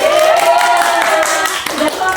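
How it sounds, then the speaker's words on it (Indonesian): A group in an Indonesian group-guidance session claps hands together in a short, loud burst, with a whistle-like tone and voices mixed in. "tepuk tangan."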